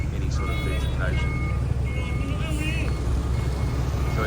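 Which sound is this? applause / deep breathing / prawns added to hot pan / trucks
trucks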